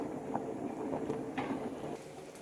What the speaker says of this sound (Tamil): நல்லா கொதித்து வரட்டும்